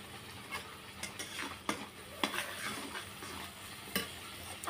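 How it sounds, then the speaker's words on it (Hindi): Masala roasting in oil in a pan for a village-style chicken curry, with a soft steady sizzle broken by sharp scraping clicks of a spoon stirring at irregular intervals, close and fairly quiet. "देखिए इधर मसाला भी भुन रहा है, तेल निकल रहा है"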